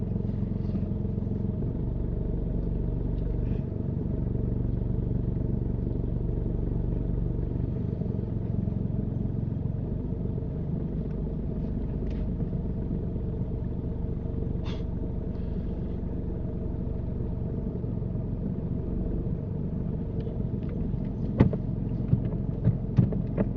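A car driving during a mock driving test: a steady low engine and road rumble throughout, with faint clatter and a few short knocks near the end, close and continuous, with no talk.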